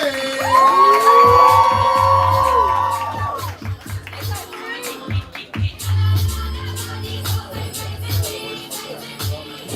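Audience at a live poetry slam cheering and whooping for a poet, loud crowd noise with shouts and whistles, while an amplified voice speaks over the room.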